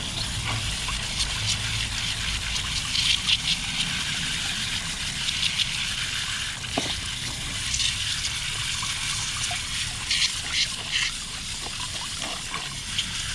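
Cold water runs steadily over a random rainbow spiral tie-dye tee during a rinse, a continuous close gushing hiss with occasional splashes and no speech.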